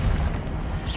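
An Incendio fire spell cast in Hogwarts Legacy: a brief, heavy whooshing burst of flame with a deep rumbling body and a hissing crackle on top, steady and loud for about a second.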